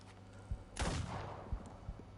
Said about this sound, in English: Oh, I shot him right in the head.